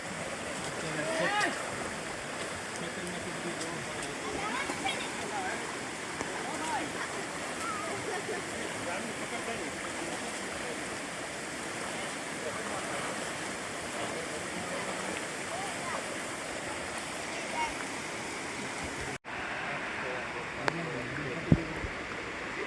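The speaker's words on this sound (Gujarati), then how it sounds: "નદીનો ફોર્સ વધારે છે વરસાદના હિસાબે" A river swollen and fast after rain on a jungle trek, a constant broadband rush of flowing water filling the scene, with a voice faintly under it and an abrupt cut near the end.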